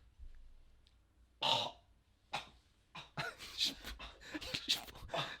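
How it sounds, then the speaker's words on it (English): A few sharp coughs and throat-clearing bursts in a quiet room, coming in short irregular clusters. "Prestonian was coughing really hard"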